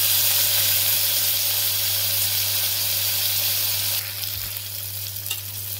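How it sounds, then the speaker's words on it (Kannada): Tomato sizzling and frying in hot oil with brinjal for ennegayi, a steady bright hiss that holds loud and close before easing a little toward the end, with light stirring and no voices. "ಟೊಮೊಟೊ ಹಾಕಿದ್ಮೇಲೆ ಸ್ವಲ್ಪ ಫ್ರೈ ಮಾಡಬೇಕು."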